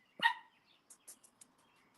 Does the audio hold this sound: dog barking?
yes